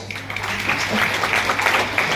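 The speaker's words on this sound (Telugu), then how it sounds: "మీ అందరికి గ్రేట్ క్లాప్స్" An audience applauds at a meeting, a dense sustained burst of many hands clapping together at close range, filling the whole short stretch.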